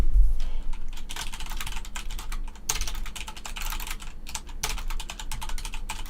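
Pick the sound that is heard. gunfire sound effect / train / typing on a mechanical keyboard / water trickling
typing on a mechanical keyboard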